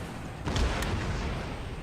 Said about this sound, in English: The cannon's just shooting canisters at the back.